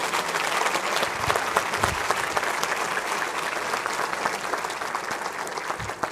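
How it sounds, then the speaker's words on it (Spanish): A church congregation applauds together during a Sunday service, a steady, even wash of clapping from many hands, moderately distant, with no talk over it. "Aplauden juntos."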